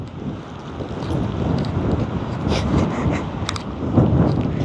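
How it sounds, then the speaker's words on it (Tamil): Cold wind blowing outdoors in the afternoon, a steady buffeting rush across the microphone that swells and eases in gusts, loud and close, with no talk. "என்ன குளிர் காத்துண்டு அடிக்குது."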